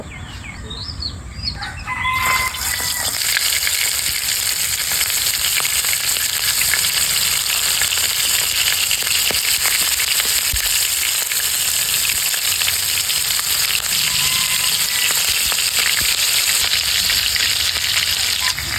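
Prawns drop into hot oil and a loud, dense sizzle takes over, crackling steadily and close for the rest of the clip with no voices.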